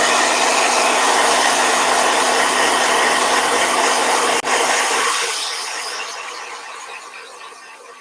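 A blow dryer runs loud and steady with a whining tone, then its sound gradually fades and thins over the last few seconds.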